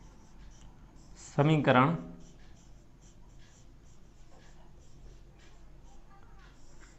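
Pen writing on paper while solving a class 10 maths equation, soft faint scratching strokes that run quietly through the clip, with a brief spoken word near the start.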